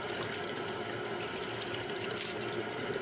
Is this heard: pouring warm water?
yes